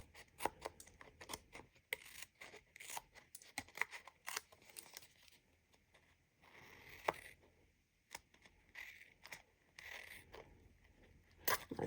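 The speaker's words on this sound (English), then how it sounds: "just flip it over and just trim the pieces around the edges off" Scissors or a blade trimming the edges off a glued craft piece, a series of faint, close snips and crinkly paper-like cuts in an irregular rhythm.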